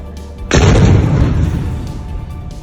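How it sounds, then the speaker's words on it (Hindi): A single deep, powerful explosion erupts suddenly as a tower is demolished, its heavy rumble rolling on and slowly fading over the following seconds. "एक धमाका और पल भर में अल नूर टावर जमींदोज।"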